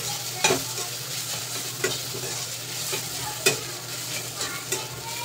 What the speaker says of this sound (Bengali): এবার এগুলো সব একসাথে মিশিয়ে নেবো